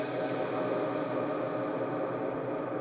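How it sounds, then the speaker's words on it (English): An Eventide UltraVerb reverb effect unit in a keyboard gig rig, producing a dense, sustained, washy tone that stays loud and even throughout. "Eventide Ultraverb, which is an amazing sounding reverb."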